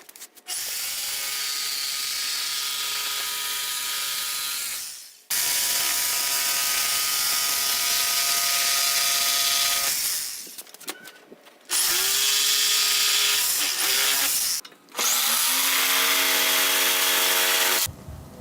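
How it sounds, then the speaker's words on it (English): A jigsaw cuts out a wooden painter's pyramid, loud and close, its motor buzzing through three long runs and one shorter burst with brief stops in between and no talking. "To cut out the pyramid using a jigsaw, mark the workpiece"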